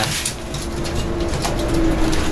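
Pet pigeons coo softly in low, steady murmurs, close by against a constant background rumble and hiss, with no talking.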